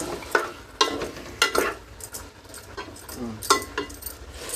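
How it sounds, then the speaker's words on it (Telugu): Marinated chicken for chicken biryani is stirred in a pot, repeated scraping strokes of a spoon against metal over a soft sizzle, fairly close and steady. "చికెన్ వేసుకున్న తర్వాత ఒకసారి అంతా బాగా కలుపుకోవాలి."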